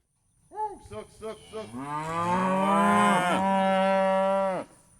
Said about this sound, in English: Lorenzo Powell herds cows from one end of the farm to the other with the help of his grandfather.